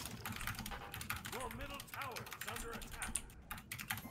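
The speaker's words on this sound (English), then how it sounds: "I'm just typing" Rapid keyboard typing clatters continuously during a Smite game session, dense and steady throughout, with a voice and game sounds mixed in underneath.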